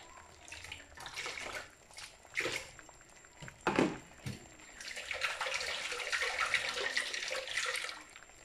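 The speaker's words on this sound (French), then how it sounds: "je rajoute de l'eau ici pour rincer tout ça" Water splashes into a cooking pot to rinse it while a guinea fowl kedjenou is prepared, arriving in several short irregular pours and then a longer steady gush, close by with no talk.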